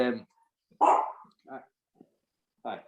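A small Chihuahua in a winery cellar gives several short, sharp barks spaced irregularly, close and fairly loud, with quiet gaps between them.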